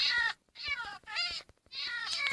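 Three or four high, drawn-out cat meows from a video game, cats crying when hurt, in quick succession, close and fairly loud, with short silent gaps between them.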